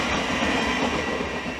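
A Class 700 electric train passing Hitchin station on the East Coast Main Line, a loud steady rush and rumble of wheels and motors close by, with no voices.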